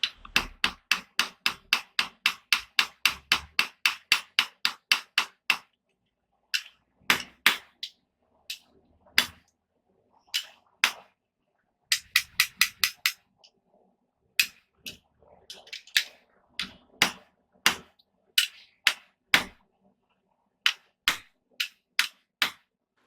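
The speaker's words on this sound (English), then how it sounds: "both pieces are hot and I'm hammering them together" A blacksmith's hammer strikes two hot steel pieces joined as a mortise and tenon: rapid, evenly spaced ringing blows in a long burst, then irregular single strikes and short clusters separated by brief silences, loud and close.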